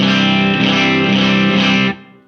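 An electric guitar in C standard tuning through a Solo RAT distortion pedal plays a heavily distorted chord that rings out loud and sustained with a few restrikes, then cuts off abruptly.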